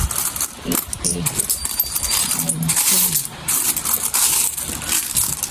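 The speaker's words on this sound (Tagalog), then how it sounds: "Daming barya." Handfuls of coins clatter and jingle as piso Wi-Fi vending machine earnings are counted, with repeated metallic drops and rattles up close while people talk in Filipino over the counting.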